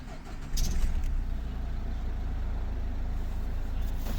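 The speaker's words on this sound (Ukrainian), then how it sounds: "Включає запалення. Всі лампочки загорілись, заводимо." A 2009 Nissan Qashqai with the 1.5 dCi K9K Euro 4 diesel engine starts up: a brief crank gives way to a steady, low, rumbling diesel idle that holds close and even to the end.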